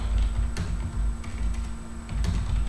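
Typing on a computer keyboard, with scattered clicky keystrokes in small clusters over a low steady hum, fairly close and without talk.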